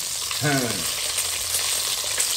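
Sausages frying in a pot for a Réunion-style red bean zambrocal dish, a steady close sizzle and crackle throughout, with a brief clink or scrape near the start and no talk.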